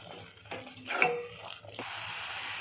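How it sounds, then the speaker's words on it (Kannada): A spoon stirs pea and fenugreek masala in a pan, with soft scraping and a faint sizzle, close and quiet with no talk. "ಈಗ ಇದನ್ನೆಲ್ಲ ಮಿಕ್ಸ್ ಮಾಡ್ಕೊತಾ ಇದ್ದೀನಿ."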